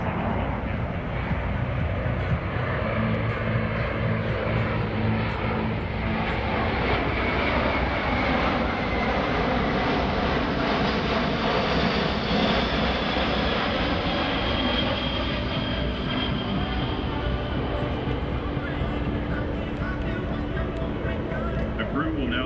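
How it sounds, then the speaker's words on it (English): A C-17 Globemaster III jet aircraft flies a demonstration at the 2021 Arctic Lightning Airshow, its engines a loud, continuous roar that holds steady throughout, with a narrator's voice faintly under it. "In the hands of a skilled crew, there aren't many places a C-17 can't go."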